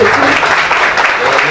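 A church congregation applauds as a pastor is welcomed, a dense continuous patter of many hands with a faint tonal murmur underneath, loud and sustained throughout.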